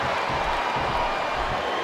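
Wrestling crowd in the WWE SmackDown vs Raw 2007 video game, at an ECW One Night Stand pay-per-view, roaring and cheering as a steady, dense wash of noise throughout with no pauses.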